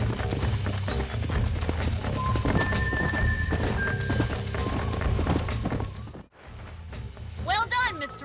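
Horses moving at speed in the Red Dead Redemption game, a dense run of hoof clatter over background music, cutting out abruptly near the end before a voice speaks.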